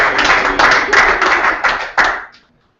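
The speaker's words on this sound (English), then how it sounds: "One more round of applause" At a volunteer recognition dinner, a few sharp, distinct claps ring out in a slow rhythm, close and loud, ending abruptly into silence.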